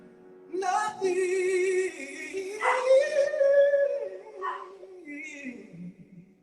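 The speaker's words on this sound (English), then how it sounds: "Even the dog's singing." A pet dog howls and yips along with a woman's singing during a home livestream, its long wavering howls rising and falling close to the microphone, mixed with her voice.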